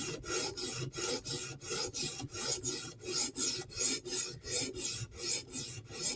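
Steady back-and-forth strokes of a Chris Reeve Umnumzaan tanto knife edge drawn across a sharpening stone, about two rasping passes per second, close and even, with no voices.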